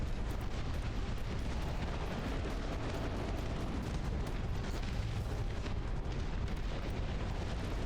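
Rockets firing from a BTR armored vehicle in the Dust Front RTS battlefield game, a dense, continuous roar of launches and booming blasts that holds loud and steady throughout, with no voices.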